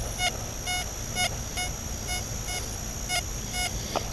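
Metal detector sweeping over a buried Civil War bullet, giving a repeated short electronic beep about twice a second over steady background hiss, faint and without talking.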